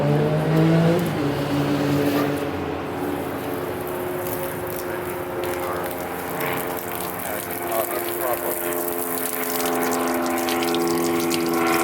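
Water from a hose gushes steadily over a car headlight during a plastic headlight cleaning, a loud continuous rush with mechanical whirring underneath and no pause throughout.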